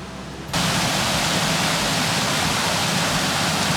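Water gushes through a leaking gate at Battery Creek Lock, an 1848 canal lock 15 feet wide and 21 feet deep. A steady, loud, close rushing roar begins suddenly after a brief quiet moment and continues without a break.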